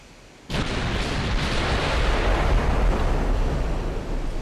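Warship main guns in a naval battle simulation fire a sudden heavy salvo after near silence, the booming blast rolling on as a loud sustained rumble.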